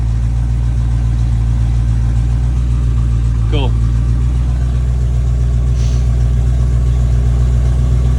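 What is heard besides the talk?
carb-swapped Ford F250 engine running during break-in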